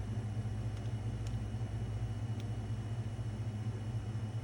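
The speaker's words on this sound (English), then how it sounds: "I apologize for the noise of my air conditioner." A household air conditioner hums steadily in an indoor craft workspace, a constant low droning rumble with faint broadband hiss, unchanging and close, with no voices over it.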